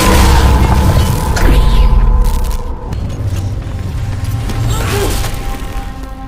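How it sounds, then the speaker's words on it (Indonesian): A big explosion from a film recap lands as a loud, deep boom with crashing debris, fades, then gives way to lower rumbling and clattering. "Connor mengumpulkan kekuatan untuk melepaskan suatu ledakan besar"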